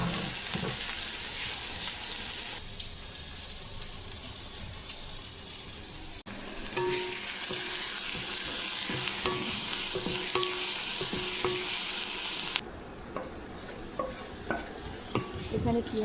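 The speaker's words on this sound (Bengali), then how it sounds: "এখানে একটু তেজপাতা, শুকনো লঙ্কা ফোড়ন দিয়ে দিয়েছি।" Bay leaf and dried red chillies tempering in hot oil for ghugni: a loud, steady, close sizzle with scattered light stirring clicks that runs throughout, its texture shifting partway through, with no voices.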